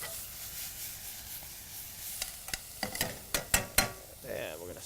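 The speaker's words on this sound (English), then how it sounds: "And we're going to saute all this." Anchovy paste sizzles softly in oil in a pan while being stirred, with a steady faint fry and a few sharp scraping clicks toward the end.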